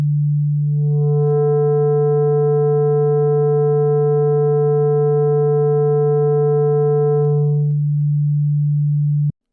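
A steady sine tone runs through the Lumen Harmonic Sculptor waveshaping plugin. Partway through, the pure hum gains a bright stack of added harmonics, then falls back to the plain tone before stopping abruptly. It plays alone and at an even level.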